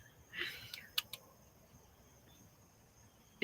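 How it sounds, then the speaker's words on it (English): Crickets bought as tarantula food chirp in a quiet dark room, a few short faint chirps and brief clicks at moderate distance with a steady low hiss and no talk. "Actually, I just got it crickets today."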